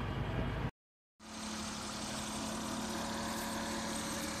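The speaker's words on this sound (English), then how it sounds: "Now that the engine is properly warmed up, it's time to adjust the carburetor screw." A rebuilt M800 engine idles steadily after warming up, a constant low hum with a faint tonal whine, cutting out briefly near the start before resuming.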